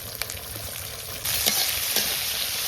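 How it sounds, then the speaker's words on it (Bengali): Onion frying in oil in a wok crackles steadily until fish head and fish oil go in, when the sizzle jumps louder and stays intense with occasional stirring clicks. "পেঁয়াজটাকে 2 মিনিট তেলে ভাজার পরে তারপর মাছের তেলটা আর মাথাটা দেবো।"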